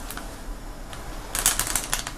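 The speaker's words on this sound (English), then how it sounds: "We'll actually shuffle the cards" A deck of playing cards is shuffled, a soft riffle of rapid flicks that swells into a louder, brisk burst near the end, close and with no talking.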